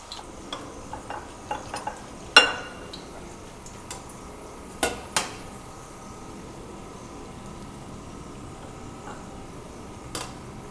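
Golden-brown fried pakoras lifted out of a pan with a metal utensil: scattered light clinks and taps, a sharper knock early on and another midway, then mostly quiet with a final tap, no voices.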